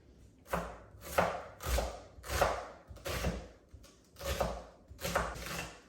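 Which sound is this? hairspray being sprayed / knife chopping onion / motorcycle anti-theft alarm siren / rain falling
knife chopping onion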